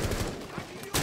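Rapid gunfire bursts in the tactical shooter Rainbow Six: Siege, a dense loud fusillade filling a brief moment, with a sharper burst at the end and voices faintly mixed in.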